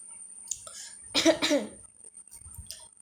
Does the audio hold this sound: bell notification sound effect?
no